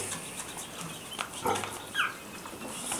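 Vietnamese pigs and a litter of piglets kept on a small farm give faint, brief squeals and grunts over a quiet, noisy background, with a couple of sharper squeaks near the middle.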